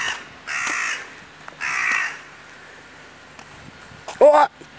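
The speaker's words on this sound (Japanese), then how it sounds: "鳥の声が うるさい。" Crows caw loudly in two long, harsh calls, then a sharper cry near the end, against a quiet outdoor background on a forest road in Hokkaido.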